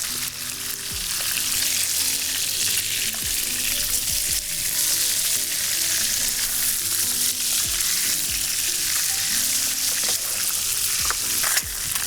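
Fresh trout fries in a single pan on a mangrove island, giving a loud, close, continuous crackling sizzle with occasional small pops and scrapes, with no voices.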